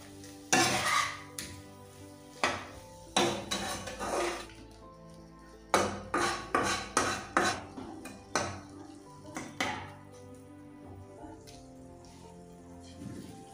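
Tamarind sauce being stirred in a pot, a spoon scraping and knocking against the metal in irregular bursts with a faint sizzle between strokes, close and clear with no talk.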